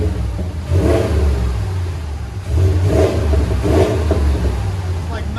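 A RAM 1500 with a 5.7L HEMI V8 and aftermarket cat-back exhaust revs up in repeated bursts over a loud, steady idle rumble, each throttle blip swelling and falling back, heard close up.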